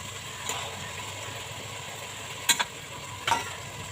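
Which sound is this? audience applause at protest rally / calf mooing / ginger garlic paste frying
ginger garlic paste frying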